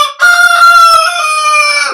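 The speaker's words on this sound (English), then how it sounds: "We got a rooster behind the wood stove, and that's what's interrupting this video." A loud rooster crows once indoors behind a wood stove, close by, in a single drawn-out cock-a-doodle-doo lasting nearly two seconds.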